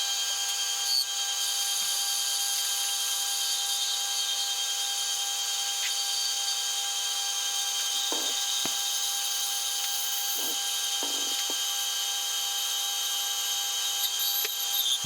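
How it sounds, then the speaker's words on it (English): A metal lathe turns a steel machinist's hammer taper with a rounded cutting tool, producing a steady high whine with tonal hum, broken by a few brief scraping cuts near the middle. "finish up with a rounded cutting tool so I can get a nice little profile at the end of the taper."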